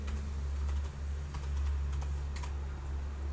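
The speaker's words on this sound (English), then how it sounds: "type in Our New Project" Rapid, uneven typing on a computer keyboard, light clicky keystrokes in bursts over a steady low hum, close and fairly quiet with no voices.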